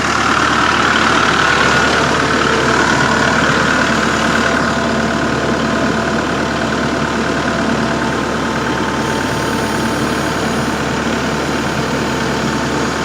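A loud, steady Kubota tractor engine drones continuously at close range, a heavy rumbling idle that holds even throughout with no voices.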